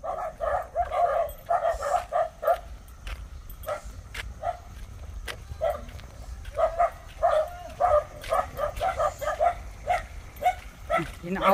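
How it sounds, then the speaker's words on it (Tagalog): A dog barks repeatedly in short yipping bursts at an outdoor spot in the Philippines, fairly close, with pauses between volleys, some whimpering and footsteps, while people talk over it. "So, tinatahol na kami ng aso, guys."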